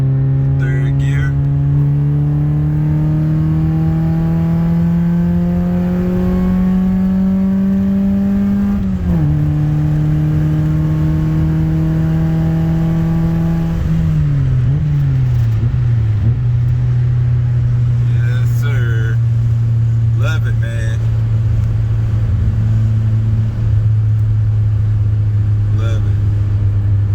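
A Honda CB7 with a swapped F23A SOHC VTEC engine accelerates hard in third gear, its loud, close engine drone rising steadily in pitch. It dips briefly around a shift before climbing again and settling as the car cruises.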